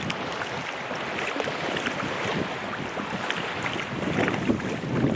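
Steady wind blowing at a beach, a loud continuous rush and buffeting across the microphone with faint surf underneath, rising a little toward the end, without speech.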